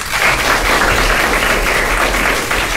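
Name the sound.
applause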